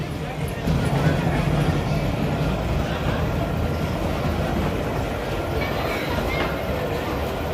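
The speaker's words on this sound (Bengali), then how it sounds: "ট্রেন ছেড়ে দিয়েছে" A small amusement park ride train moves off with a steady rumble of wheels and a low rolling roar throughout, with faint voices mixed in.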